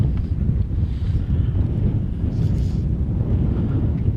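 Strong wind roars and buffets steadily outdoors while fly fishing, close and loud against the microphone, with no talking.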